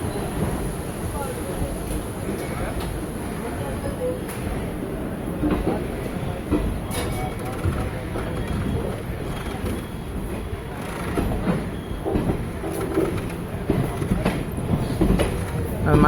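The Seshadri Express, train 17209, rolls along the rails toward Chittoor in a steady, continuous rumble with faint rhythmic clatter, heard from inside the moving train.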